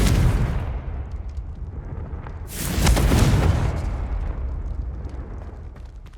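A fiery blasting spell explodes in the wizarding game Hogwarts Legacy, a loud roaring boom with a crackling burst near the middle of the clip, over a constant low rumble and ambient din.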